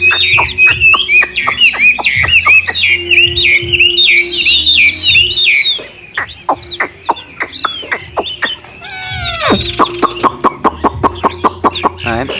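A laughingthrush (khướu) sings loud and close, with varied whistled phrases and chattering notes over steady background chirping and repeated clicking taps.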